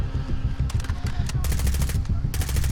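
Rapid automatic gunfire from Call of Duty Modern Warfare (2019) rattles in dense bursts nearly throughout, loud and close, with a player's voice talking faintly underneath.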